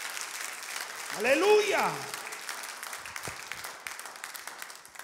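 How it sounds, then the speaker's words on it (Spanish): A church congregation claps in a sustained round of applause, with a voice calling out over it at first and the clapping continuing steadily underneath as the room settles. "Give him the best round of applause."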